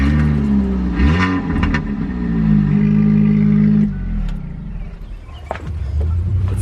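A daily-driver car with a new, loud aftermarket exhaust muffler starts and revs, a deep rumbling engine swelling and easing off before settling into a rough idle, close by and loud.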